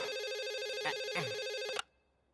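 A phone ringtone plays over a speakerphone as a steady, buzzy electronic trill. It runs loud and continuous for almost two seconds with faint voices underneath, then cuts off abruptly to near silence.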